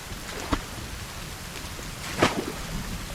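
Steady rainfall during a storm in the survival video game The Forest, a continuous hiss with a couple of brief louder splashes or rumbles, no talking.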